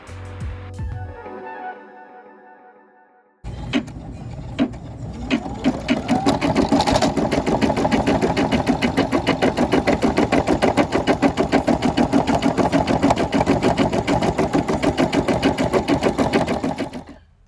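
A Brother SE6 embroidery machine stitches out a design, starting with a brief quieter hum and then settling into a rapid, steady, close-up clatter of needle strokes that continues without pause.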